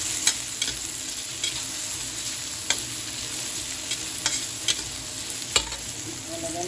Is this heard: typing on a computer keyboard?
no